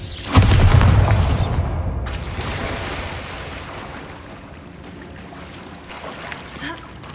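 A Bombarda spell explosion in a Harry Potter video game lands as a loud, deep boom with a heavy rumbling burst, then decays into a long low wash of debris and ambient game noise.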